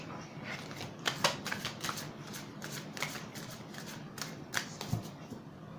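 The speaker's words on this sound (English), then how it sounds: "now I'm going to pick 3 cards for you" Tarot cards are shuffled and handled in a quiet room, a soft continuous rustle broken by several crisp snaps and flicks as cards are cut and picked.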